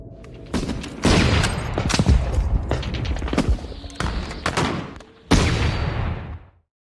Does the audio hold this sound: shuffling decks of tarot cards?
no